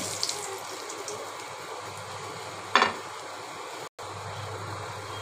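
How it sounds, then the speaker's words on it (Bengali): Dried chilies fry in oil in a wok with a steady, close sizzle, one brief louder crackle partway through, and a momentary dropout near the end. "শুকনো মরিচ দিয়ে দেব, মরিচগুলো ভাজি করে নেব"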